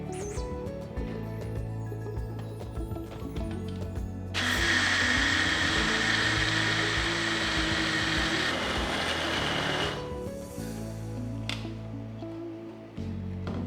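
A mixer grinder grinding soaked raw rice with half a cup of water for vattayappam batter, a loud whirring motor roar that starts abruptly and runs steadily for several seconds before cutting off, with quieter kitchen sounds before and after.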